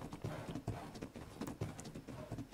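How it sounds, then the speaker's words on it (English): A horse gallops in Ark: Survival Evolved, its quick hoofbeats pounding in a steady, driving rhythm, moderately loud with no voices over them. "Running around on an unimprinted horse was a little bit slow."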